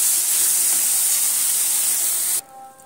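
Cumin seeds fry in hot oil in a wok, a loud, close, steady spray-like hiss that cuts off sharply near the end, leaving a quiet hum.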